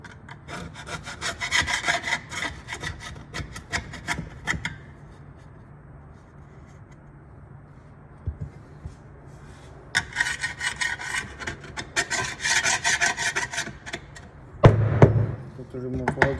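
Rapid rasping scrapes of old silicone being cleaned off an Acura TL Type S V6 valve cover, coming in two busy bursts separated by a quieter pause, with a louder knock near the end.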